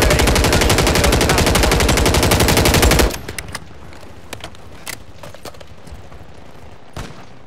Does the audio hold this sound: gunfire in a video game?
yes